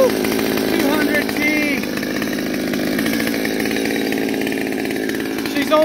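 A mildly ported Stihl 020T (MS200T) top-handle chainsaw runs steadily during break-in, its buzzing two-stroke engine close and loud for several seconds with only slight dips in revs.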